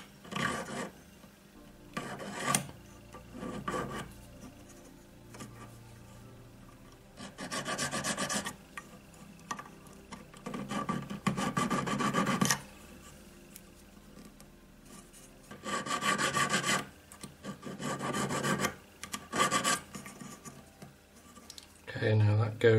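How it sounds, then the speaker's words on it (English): A jeweller's saw blade cuts outward through a metal creole earring in repeated bursts of rasping strokes separated by brief pauses, close and fairly loud, with some quiet talk in between. "I've got my saw blade in the hole and I'm just going to cut outwards"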